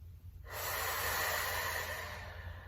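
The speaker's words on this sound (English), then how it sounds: "Nice deep breaths." A single long, deep breath during a pilates session: after a moment of quiet, a steady, airy exhale rushes in close to the microphone and holds for about two seconds.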